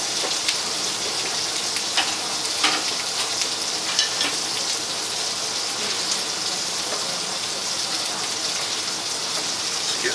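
Asparagus and steak frying in butter in a pan give a dense, loud, continuous sizzle with crackling pops and light stirring scrapes throughout.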